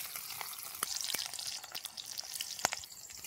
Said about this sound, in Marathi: तेल गरम झालंय, आपण आता लसूण टाकून घेऊ फोडणीला।